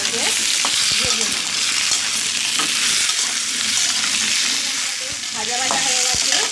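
Colocasia and potato pieces sizzle loudly in goat fat with onions already fried red. A steady, close frying hiss runs throughout, broken by repeated scraping stirs.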